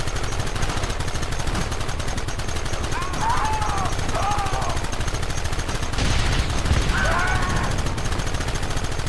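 Rapid gunfire in the video game Red Dead Redemption, continuous crackling shots over several seconds with shouting voices and game sounds mixed in.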